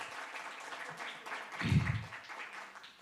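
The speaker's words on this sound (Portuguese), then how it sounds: "palmas." Applause from an audience at an illustrated-books panel event, a continuous wash of crowd clapping with a short low bump midway, moderately loud.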